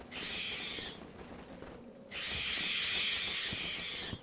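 Crows in the Resident Evil 0 video game give loud, harsh raspy calls in two long bursts with a short quiet gap between, close and alone with no talk.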